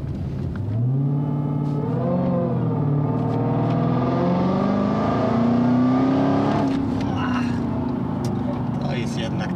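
A new supercharged Dodge Challenger Hellcat Redeye engine revs and pulls hard, its deep rising harmonics climbing and falling through gear changes in a loud, sustained roar heard from inside the car.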